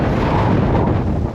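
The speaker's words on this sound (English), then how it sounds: "It's windy as hell." Loud, roaring gusts of strong wind on a boat at sea buffet the microphone continuously, a dense low rumble with no voices.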